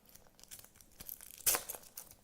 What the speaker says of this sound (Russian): Распаковываем наш Чупа-Чуп шоколадненький, вкусненький.